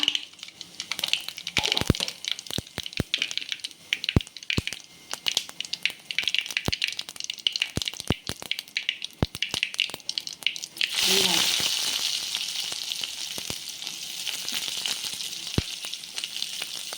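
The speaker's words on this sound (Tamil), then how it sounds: "இப்போ ஜீரகத்தை போட்டுக்கலாங்க" Cumin seeds go into hot oil, bringing scattered sharp crackling pops close by, then a broad, steady frying hiss that takes over for the last few seconds.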